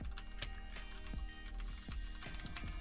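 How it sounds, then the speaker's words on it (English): Rapid, crisp keystrokes on a new computer keyboard, close and clear in an irregular typing rhythm under a steady electrical hum. "just listen to this typing"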